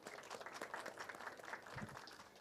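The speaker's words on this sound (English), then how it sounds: "Give him applause" Applause from the audience at a COP29 side event on climate and waste resources, a short, fairly faint burst of scattered clapping from a seated crowd heard at a distance in a conference hall.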